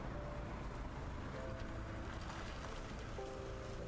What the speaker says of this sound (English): if you hear loud raindrops, because we have had some loud rain for the past 45 minutes going on and on